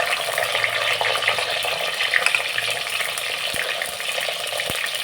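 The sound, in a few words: onion and garlic frying in a pan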